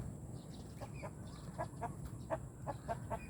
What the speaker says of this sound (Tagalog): mga manok ah